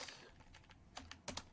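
Keys clack on a computer keyboard while code is written, a quiet run of quick irregular taps with a few louder strokes near the end.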